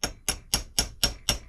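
Six evenly spaced sharp metallic taps as a ball strikes an antique silver spoon being straightened, each ringing briefly with a bright clink, close and alone.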